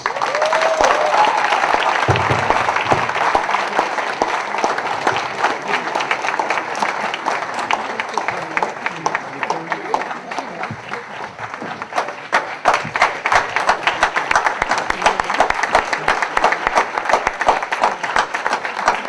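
Audience applause greets a woman being welcomed onto the stage at the Voice Award 2013 ceremony, a dense, steady roar of clapping that holds loud for the whole stretch and thins only slightly midway.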